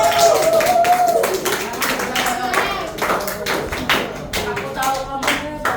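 A class claps for a presenting student group, a run of separate hand claps at a lively but uneven rhythm, with voices and a brief tonal sound mixed in near the start.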